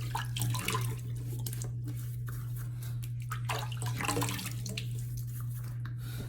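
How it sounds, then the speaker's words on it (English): Water splashes onto a face before a wet shave, with close, irregular splashing and dripping over a steady low hum, and no talking. "let me wet the face"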